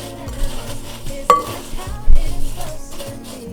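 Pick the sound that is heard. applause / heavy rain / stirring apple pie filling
stirring apple pie filling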